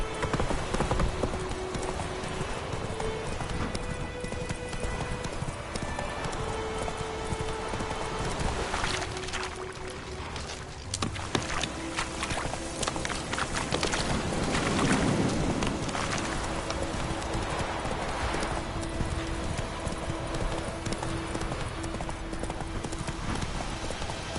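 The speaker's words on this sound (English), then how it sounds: "Whoa there, Roach" The horse Roach's hooves clip-clop steadily over ground in The Witcher 3, a continuous rhythmic trotting beneath wind and ambient game sound, with a brief whinny-like moment and faint low background voices.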